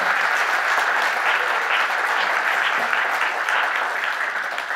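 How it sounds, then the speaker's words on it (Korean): Sustained applause from the audience at a Basic Income Party founding convention, honoring the sign-language interpreters; a dense, steady wash of many hands clapping, loud and continuous throughout. "다시 한번 큰 박수 부탁드립니다"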